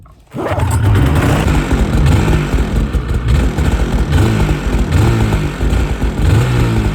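An 800 snowmobile engine with a stock exhaust fires up and idles loudly, then revs up and down several times, close and continuous, with a rough mechanical rumble.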